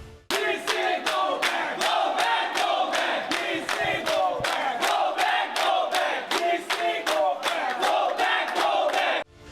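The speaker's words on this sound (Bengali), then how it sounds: "এভাবেই প্রতিবাদে নেমেছেন শিক্ষার্থীরা, স্লোগান দিচ্ছেন, আওয়াজ উঠছে" University students at North Lakhimpur protesting in front of the vice-chancellor's office, chanting slogans in unison as a loud, rhythmic group call-and-response with regular sharp bursts of voices repeated across the whole stretch.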